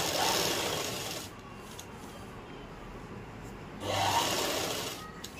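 A sewing machine running steadily while top stitching a kurti neck. The motor whirs close by, louder at the start and end with a softer stretch in the middle.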